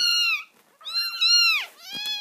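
A rescued kitten meows loudly and close, two or three drawn-out, high, wavering cries in quick succession with no talking.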